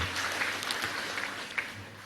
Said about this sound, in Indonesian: Tepuk tangan untuk Pak Kapolda.